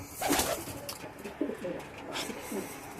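Racing pigeons coo in a loft, several soft, throaty calls repeating in short bursts close by over a quiet, airy background.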